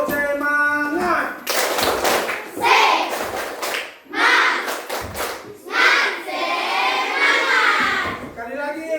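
Schoolchildren in a classroom perform a rhythmic clapping chant, bursts of hand claps and young voices alternating in short energetic phrases, with an adult voice leading between them.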